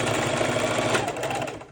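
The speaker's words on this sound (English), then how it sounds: "I'm gonna bring it under the sewing machine." A sewing machine runs a straight stitch through mixed media journal pages, a rapid, even mechanical chatter held steadily at close range.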